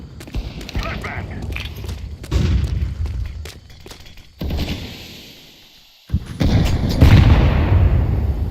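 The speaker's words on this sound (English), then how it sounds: "Throw in the flashbang!" Loud booms and sharp bursts from a flashbang grenade and gunfire ring out in Counter-Strike 2, with several blasts separated by brief lulls and voices shouting over the action.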